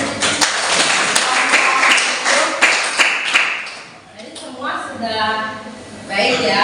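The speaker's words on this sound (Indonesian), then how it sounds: "jadi tepuk tangan dulu buat temannya" Classroom students clap for a classmate: brisk, scattered applause fills the first few seconds, then fades as a teacher's voice continues speaking.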